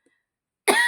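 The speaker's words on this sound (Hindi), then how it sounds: "खांसी बहुत ज्यादा है बच्चों" A single sharp, close cough from a man, bursting out abruptly after near silence.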